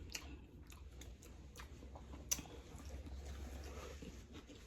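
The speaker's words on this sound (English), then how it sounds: "Still got a crunch." Faint, close chewing and crunching of crunchy fried chicken and sweet potato, soft irregular bites over a steady low background hum, with no talking.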